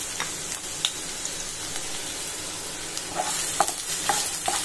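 Onions sizzle and crackle in hot oil while a utensil stirs them, with occasional scraping taps against the pan.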